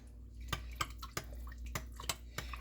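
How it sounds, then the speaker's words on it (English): A spoon stirs a thick homemade stew mixture in a bowl, giving a series of soft wet clicks and squelches at an irregular, roughly half-second rhythm, faint and close with a low hum underneath. "Give that a stir."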